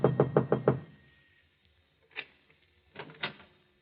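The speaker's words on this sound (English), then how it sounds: "and knocks on the door." Someone knocks on an apartment door in a radio drama. A crisp burst of four quick raps is followed by a pause, then a single knock and two more. The knocks are close and dry, with no talk over them.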